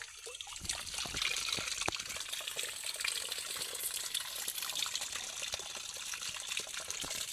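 Continuous trickling and splashing of water running from a natural spring near a hillside temple in the Malnad region, close by and steady, with no voices.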